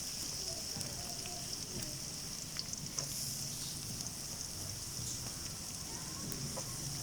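Chopped onions hit a hot frying pan and sizzle steadily, a constant hiss with light crackles running without pause and no voices.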